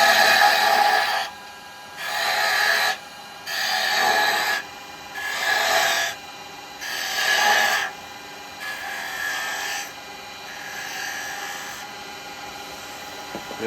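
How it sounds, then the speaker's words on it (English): A carbide woodturning cutter is rubbed back and forth on a sharpening surface in about six even rasping strokes, each roughly a second long and separated by short pauses, close and fairly loud, with the last strokes softer. "Sharpening your carbide cutters"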